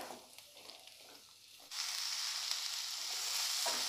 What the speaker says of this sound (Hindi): ऑयल को हमने गर्म कर लिया है और अब इसमें डालेंगे स्लाइस्ड ऑनियन और इन्हें हल्का भूरा होने तक भून लेंगे।